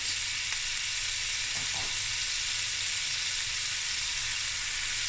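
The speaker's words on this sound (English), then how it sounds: "now we're going to add 2 cans of oysters with the oil and all" Two cans of oysters with their oil sizzle in a hot frying pan: a steady, dense hiss throughout with a brief soft scrape of a spatula early on.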